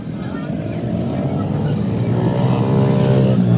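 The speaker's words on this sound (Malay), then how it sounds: "Dan ni race motor kecil." Several small motorbike engines buzz and rev together at a race, a loud continuous droning roar that builds slightly toward the end.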